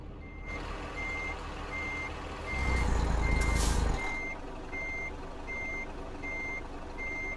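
An American Truck Simulator truck reverses with evenly spaced electronic beeps sounding over a steady engine rumble, with a brief louder hiss of air brakes in the middle.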